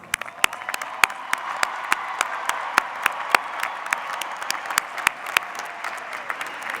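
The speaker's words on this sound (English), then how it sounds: "Will all our graduates please stand for a round of applause?" A 2016 commencement audience applauds School of Medicine graduates, many hands clapping steadily with crisp individual claps standing out against the crowd.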